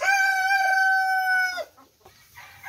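A rooster in a chicken coop with rice hull bedding crows one long, loud, drawn-out call, then a few soft clucks follow in a quieter stretch.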